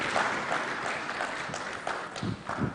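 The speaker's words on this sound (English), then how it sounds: "let's give them one last round of applause and appreciate them." Conference audience applause, a moderate wash of clapping that continues for nearly three seconds, with a couple of low thumps near the end.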